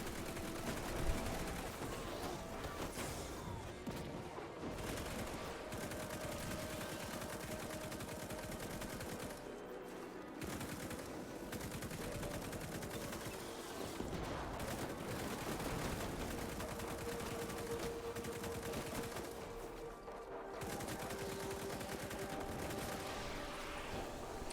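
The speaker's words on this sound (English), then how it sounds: "We will be shooting it quite a bit in this room at the barrier and the shanks." Gunfire in the Destiny 2 Concealed Void lost sector, with rapid bursts fired at barrier-shielded enemies and shanks, plus repeated shots and explosions over busy game sounds.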